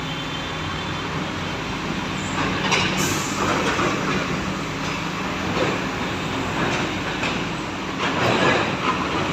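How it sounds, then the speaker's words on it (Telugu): A train running along railway tracks, heard close and loud as a continuous rumble with rhythmic clacking of wheels over the rails and occasional squeals, with no talk. "ట్రైన్లు కూడా యథావిధిగా వెళ్తూనే ఉంటాయి"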